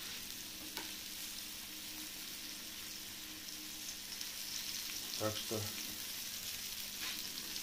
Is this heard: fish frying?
yes